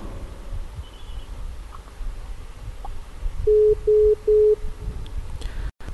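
Phone line tone on a call-in broadcast after the caller cut off: three short, evenly spaced beeps sound clearly over a hissy line, ending in a brief dropout.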